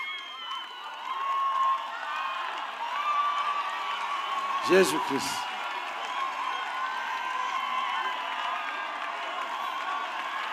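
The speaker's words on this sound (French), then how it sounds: "Acclame pour Jésus. Clap for Jesus." A crowd at a church healing service cheers and claps for Jesus, a steady wash of applause and voices throughout, with a single voice briefly calling out in the middle.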